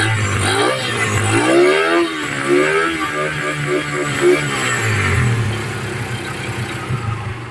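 A Kawasaki Wind 125 motorcycle, left in storage for seven years, runs close by with a steady engine note that swells briefly in a few light revs before settling back toward idle.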